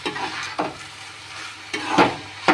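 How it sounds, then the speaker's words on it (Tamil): A beetroot and lentil stir-fry is stirred in a pan: a few quick scraping strokes against the metal, close and distinct, over a soft background sizzle. "அப்படியே ஃபுல்லாக கிளறி விட்டுருங்க."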